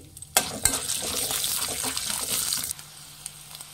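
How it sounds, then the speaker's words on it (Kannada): Peanuts, chana dal and curry leaves frying in oil, a close bright sizzle and crackle with a sharp pop near the start, lasting a couple of seconds before dropping to quiet background. "ಕಡಲೆ ಬೀಜ, ಕಡಲೆಬೇಳೆ ಚೆನ್ನಾಗಿ ಫ್ರೈ ಮಾಡಬೇಕು ಫ್ರೆಂಡ್ಸ್ ಎಣ್ಣೆಯಲ್ಲಿ"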